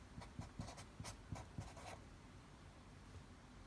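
Pen or pencil scratching on paper while a precalculus problem is worked out, a run of quick strokes and taps for about two seconds over faint background hiss, then quiet.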